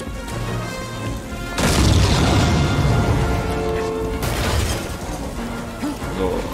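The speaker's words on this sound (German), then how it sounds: "Alles, was hinter mir ist, fällt irgendwie ab oder explodiert" Explosions and crashing debris in Star Wars Jedi: Fallen Order, with a heavy booming burst and rumbling collapse, then a second loud blast, over a constant game soundscape.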